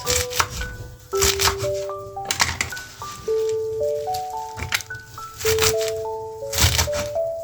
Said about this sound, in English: So we are cutting our sukuma into small pieces.